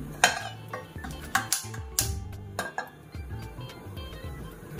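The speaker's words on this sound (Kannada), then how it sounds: "ನೋಡಿ, ನಾನೀಗ ಒಂದು ಪ್ಯಾನ್ ತೊಗೊಂಡಿದ್ದೀನಿ." A pan for spicy masala bread toast is set down and handled on a kitchen counter, giving a short run of close metallic clanks and clinks at an irregular pace, fairly quiet with no talking.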